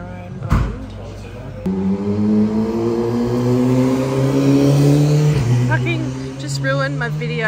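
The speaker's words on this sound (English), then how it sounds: "Ruined my video with your bloody loud engine" A loud car engine revs close by and climbs in pitch as the car drives past on a city street in Launceston, its drone steady for several seconds before fading, with brief talk near the start.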